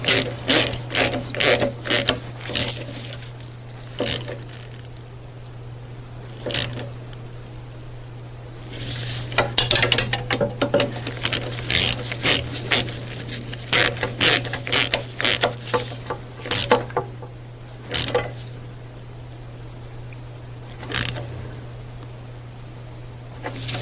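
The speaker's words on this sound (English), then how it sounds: "Now I'm gonna tighten these bolts." Hand ratchet tightens EGR tube bolts on a Dodge Sprinter van during oil cooler replacement, close-up clicking bursts in short irregular runs separated by pauses, over a steady low hum.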